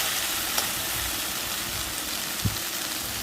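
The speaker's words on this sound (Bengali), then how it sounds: "ভেন্ডি অল্প আঁচে আস্তে আস্তে করে ভাজতে হয়" Okra (bhindi) frying slowly over low heat in a pan, a soft steady sizzle and hiss with a couple of faint clicks from stirring, no talking.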